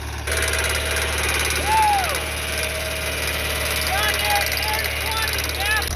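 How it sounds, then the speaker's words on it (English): A gasoline John Deere tractor engine runs at a steady, loud idle close by, with a constant low drone, while a few faint whistling tones rise and fall over it. "we just found out that this is not a diesel. This is a gasser John Deere"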